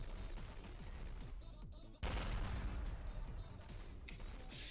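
Arm-mounted gun of a tank-version Titan Cameraman firing in the Skibidi Toilet game, a dense rattling fusillade that steps up sharply louder midway and stays as continuous loud gunfire with no talk.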